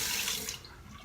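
Tap water runs steadily at close range to wet a hollow-handled safety razor for a first shaving pass, a bright continuous hiss that thins out partway through.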